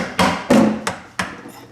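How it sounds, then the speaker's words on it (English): A wedge tool hammered into the joint of a Dana 35 axle housing cover: four sharp, loud metallic strikes at a steady pace, each ringing briefly before the next blow. "you take your wedge type tool and you hammer it in here"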